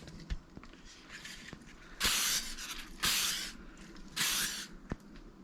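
Three hissing bursts of WD-40 degreaser sprayed from an aerosol can onto a walnut box in a workshop, each about a second long. The bursts are separated by faint clicks and handling noise.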